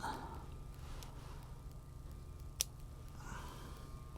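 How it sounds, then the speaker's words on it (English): Scissors give a single faint, crisp snip through a small plant stem against a quiet indoor hum. "Let me just snip it."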